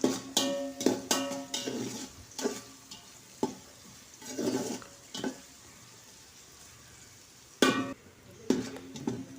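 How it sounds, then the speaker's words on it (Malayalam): Chopped shallots fry in ghee in a pan, with a soft sizzle under intermittent, close spoon scrapes and stirring strokes that come in short bursts separated by quieter pauses. "നല്ലൊരു ഗോൾഡൻ കളർ ആവണ വരെ ഒന്ന് ഉള്ളി ഒന്ന് മൂപ്പിച്ചെടുക്കട്ടോ"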